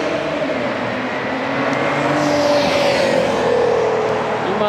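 First-generation Honda Insight race car with a manual gearbox on track at Fuji Speedway in an eco car cup race, a loud steady engine drone and road roar that swells slightly as it passes, with track ambience.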